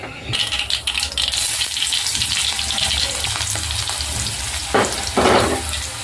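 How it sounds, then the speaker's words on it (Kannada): Garlic, cumin and mustard seeds frying in plenty of oil make a loud, crackling sizzle with sharp popping bursts and occasional spoon clinks, steady throughout and close by, with no talking. "ಈಗ ನೋಡ್ರಿ ಬೆಳ್ಳುಳ್ಳಿ ಸ್ವಲ್ಪ ಫ್ರೈ ಆಗೈತಿ ಸಾಸಿವೆ ಚಟಪಟ ಅಂದವು"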